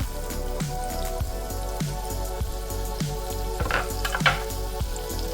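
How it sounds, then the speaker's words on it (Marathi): Finely chopped onions sautéing in hot oil with cumin in a Marathi home kitchen, giving a dense, steady crackling sizzle up close, with regular scraping stirs against the pan and no voices. "हा कांदा आपण तेलावर चांगला परतून घेऊया"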